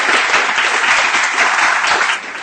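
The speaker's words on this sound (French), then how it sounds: "Je vais vous demander de vous applaudir." An audience at a business-startup conference claps together, producing a dense, loud burst of applause that holds steady and then starts to thin near the end, with no speech over it.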